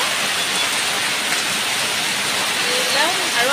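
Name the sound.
heavy rain falling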